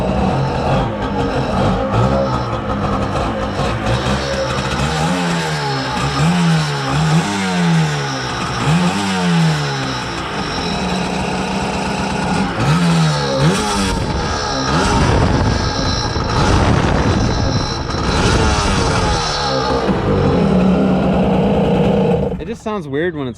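A Kawasaki 550SX jet ski engine idles nearby with an uneven, rough tone, its revs wavering and surging at times while people talk over it.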